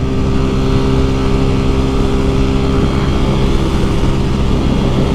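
A Honda Titan 150 motorcycle runs steadily along a highway after adjustments, its engine a loud continuous drone blended with heavy wind rush, close and unbroken with no talk.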